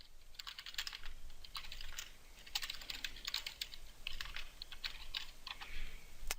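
Rapid typing on a computer keyboard while entering spreadsheet text, a quiet, steady stream of soft key clicks in uneven bursts, close by and alone without any talk.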